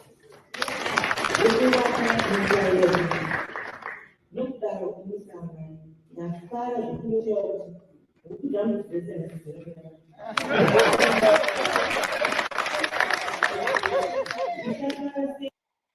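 Members of parliament clap in a loud, dense burst of applause at the start, then someone talks, then another long stretch of crowd clapping follows.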